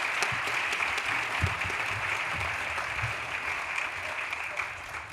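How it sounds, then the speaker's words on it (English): A conference audience at a summit session claps in a steady, even round of applause lasting about five seconds, moderately loud with no speech on top. "So we give everybody a round of applause."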